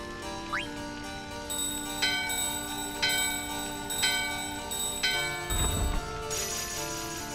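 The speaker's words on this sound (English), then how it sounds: "Climb the stairs and ring the bell at the left doorway." Bell rung in the Final Fantasy IX video game at a doorway: regular, clear bell strikes about once a second, ringing over steady game background music, with no talking.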